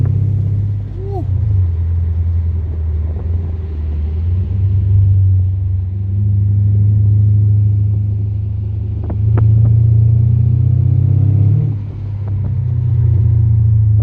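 A Mercedes CL550 with a V8 engine climbing a hill road, its deep, loud rumble rising and falling as it accelerates and downshifts, with voices talking over it inside the car.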